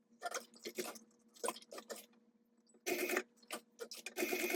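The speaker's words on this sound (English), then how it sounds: "I'm going to pull this thread to the back now so it doesn't get tangled up with the other one" Thread is drawn through fabric during hand stitching, giving a series of close, soft rasping pulls that come in short bursts with brief pauses, quiet and alone.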